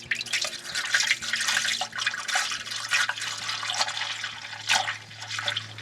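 Liquid pours steadily into a toilet tank during winterization, a continuous splashing trickle close by with small drips and gurgles, alone without talk.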